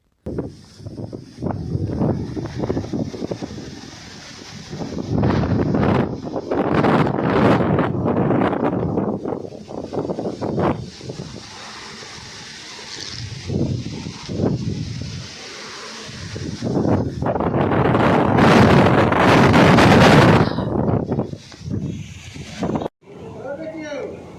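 A strong village storm wind roars across a rooftop water tank, surging in loud buffeting gusts that rise and fall, with heavy wind noise on the microphone and rattling in between.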